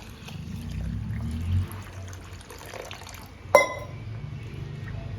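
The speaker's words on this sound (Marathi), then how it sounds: "आणि तांदूळ बुडतील इतकं पाणी घालायचं." Water is poured over washed rice mixed with poha, set to soak for idli batter, giving a soft, low running pour with a brief clatter of the vessel partway through.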